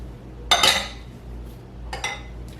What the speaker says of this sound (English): I'm going to fold them gently because I don't want to break up the blueberries.